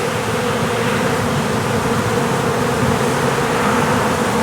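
Honey bees from a freshly installed package swarm around a hive, a loud, steady, dense buzzing hum that carries on without a break and without any voices.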